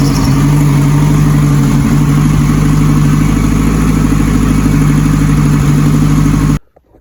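A custom car engine fires up and runs loud and close, a rough, pulsing idle thumping steadily before cutting off abruptly at the end.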